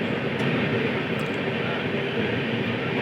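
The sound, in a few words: passenger train moving on rails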